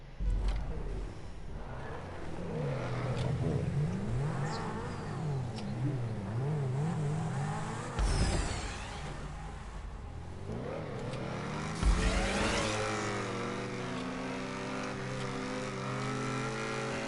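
A car engine held at full throttle while racing in GTA 5 Online, a steady loud roar with rising and falling revs and gear shifts, continuous and close throughout.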